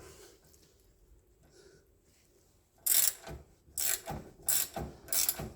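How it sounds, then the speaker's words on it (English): A spanner fitted with an Allen key bit turns a bolt during a rack end replacement on a Volkswagen Crafter. After a quiet stretch, four loud ratcheting bursts of clicking come at close range in a steady rhythm, with no talk. "Let's see if a spanner and the Allen key bit will work."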